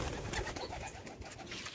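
Pigeons or doves cooing in a home bird colony, a low soft murmur of calls running steadily throughout over light background noise.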